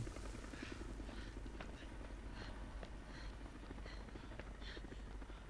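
A helicopter in the video game Resident Evil 5 gives a steady, dense rotor drone that fills the whole stretch at an even level, with faint clattering layered over it.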